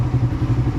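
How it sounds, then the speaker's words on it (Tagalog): A motorcycle engine idles while warming up in the morning before a long road trip, giving a loud, close, steady low rumble with a fast, even pulsing throb and no voices. "siyempre naka-andar na rin yung ating motor"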